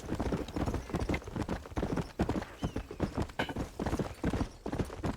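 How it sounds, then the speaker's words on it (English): Horse hooves clip-clopping in the video game Red Dead Redemption, a fast, close, rhythmic run of hoof beats with a brief whinny, steady and loud throughout. "Don't run into the back of other horses."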